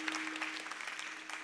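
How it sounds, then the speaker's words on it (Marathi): A kirtan audience gives students a round of even applause that is steady and soft, heard at some distance with a faint hum underneath. "एकदा या विद्यार्थ्यांसाठी जोरदार टाळ्या होत्या."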